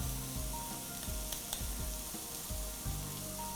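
Ingredients sauté in a hot pan for a chutney, giving a steady close sizzle with small clinks and stirring scrapes at irregular intervals.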